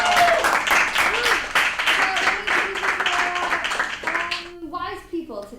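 Studio audience applause and cheering for improv contestants on a comedy game show, loud and dense, with voices and shouts mixed in before it thins out at the end.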